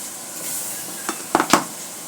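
Garlic paste fries with beef and spices in a pot, a soft sizzle punctuated by three or four quick metallic stirring clinks near the end.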